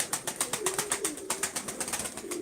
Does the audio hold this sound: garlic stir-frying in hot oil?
no